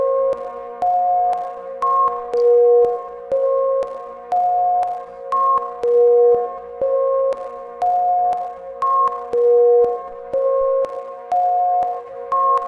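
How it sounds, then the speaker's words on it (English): A Kajita multi-tap delay plugin repeats short tonal notes in a rhythmic pattern, the echoes stacking as the feedback builds into a sustained, pulsing series of repeats. "You hear the feedback building there."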